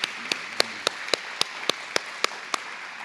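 Slow, spaced single claps at a memorial service, about a dozen sharp, evenly timed hand claps over a quiet room background rather than full crowd applause.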